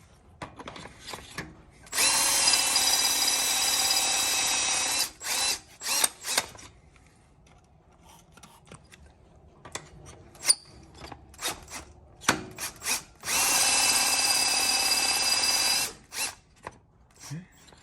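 Power drill running in two sustained bursts of about three seconds each during work installing a Tremec TKX transmission in an Oldsmobile Cutlass, loud and close, with clanks and tool knocks in between.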